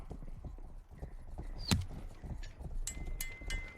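Horse hooves clip-clopping in the video game Rustler, a string of close, light irregular hoof knocks alongside other small game sounds, with a brief whinny-like cue in the middle.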